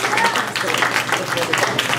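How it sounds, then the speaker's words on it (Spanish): A church congregation applauding together, a dense, continuous wash of clapping that sounds close and fairly loud, with voices mixed in among the crowd. "Un aplauso fuerte al Rey de Reyes"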